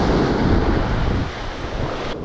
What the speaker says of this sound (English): So I got this wind to my back.